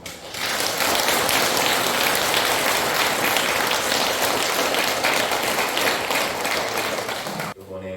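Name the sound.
applause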